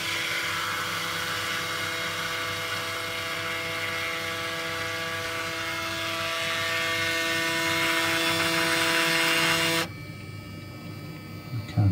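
Braun Series 9 shaver cleaning station running its clean cycle, a steady electric hum with a high whine that holds for about ten seconds, then cuts to a quieter tone.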